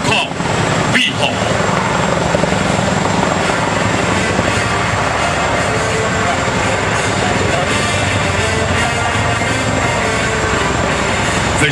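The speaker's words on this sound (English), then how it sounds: "The Chinook can transport up to 55 troops on board" A Chinook helicopter flying in an aerial display at an air force open house, with a loud, steady broadband rotor and engine roar throughout and a narrator speaking over it.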